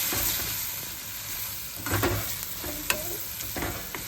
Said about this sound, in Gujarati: વઘાર જોરદાર આવી ગયો છે.